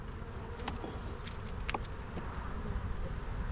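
Honey bees buzz in a hive during an October inspection, a steady, dense drone close to the microphone, with a few individual bees passing nearby and no talking.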